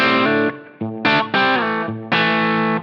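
Electric guitar through an overdrive pedal on a Line 6 Helix with the gain at zero, several loud, close chords ringing with only a slight edge of grit.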